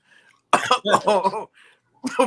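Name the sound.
coughing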